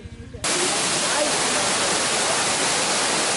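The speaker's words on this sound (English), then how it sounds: "Here we are, we're at the waterfall." A roaring waterfall in Bali bursts in after a brief quiet moment and then holds as a dense, steady, loud rush of falling water.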